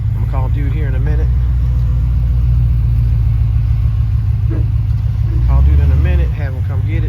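A 1996 Chevrolet Impala SS rolls over bumps, its engine a steady low rumble throughout with a brief louder surge near the end, while someone talks over it.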